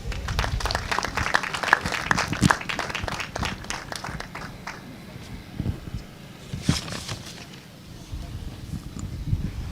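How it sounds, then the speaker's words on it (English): Audience applause at a university graduation ceremony, scattered clapping in an uneven patter that swells, eases and rises again, with some crowd noise underneath. "Can we give another round of applause to our valedictorian, Miss Mariam Ichulet Arikosi."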